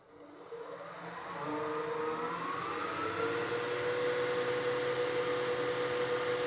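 A lathe spinning up to about 3,000 RPM: a motor whine that climbs in pitch over the first seconds, then holds as a steady, loud, even hum.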